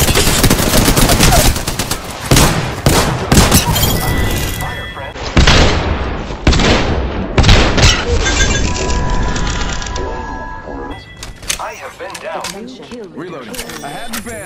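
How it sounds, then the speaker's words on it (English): Rapid video game gunfire rattles in dense automatic bursts with heavy booming shots, loud and close throughout, broken by brief pauses, with a voice talking over the shooting. "Shots fired and they're hitting me."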